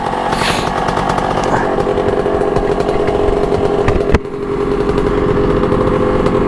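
A Rusi RXT 135 motorcycle engine runs at a high idle after a carburetor repair with a new filter and repair kit, a loud continuous buzzing drone close by with one brief dip partway through.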